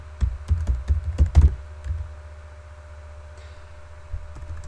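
Someone types a quick burst on a computer keyboard while writing SQL, giving a few close, thumping keystrokes followed by a quiet pause and one more tap.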